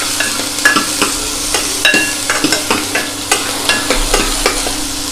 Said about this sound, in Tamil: கொஞ்சம் வதங்கிடுச்சு பெரிய வெங்காயம்.